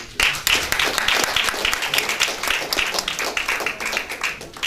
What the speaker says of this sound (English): I want to hear that applause very loud and clear